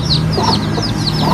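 Chickens cluck repeatedly at close range in a farm area that also keeps goats, with steady low background noise and no talking.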